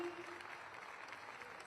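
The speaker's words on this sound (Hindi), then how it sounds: "आपकी अनवरत तालियां मंच तक अपनी प्रेषित करें।" Applause from the audience at the closing ceremony of the three-day Gorakhpur Mahotsav in Gorakhpur district, a steady wash of many hands clapping at fair distance, with a faint tone near the start.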